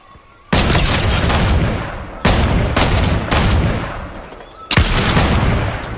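Loud, close gunfire from the video game Fortnite: four sustained bursts of shots, each starting abruptly, with no pauses for talk.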